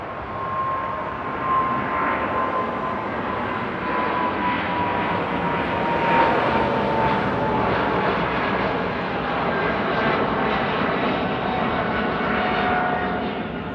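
A steady, loud airplane engine rumble at Frankfurt Airport fills the whole stretch, broad and continuous with a faint high whine running through it.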